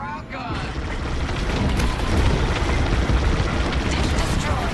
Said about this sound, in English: We've lost a dish. Kaboom!